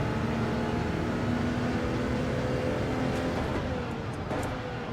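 Audi race car in Gran Turismo 7 at Monza, a steady, buzzing engine drone at high revs, continuous and fairly loud, with a brief pitch shift near the end like a gear change, no talking.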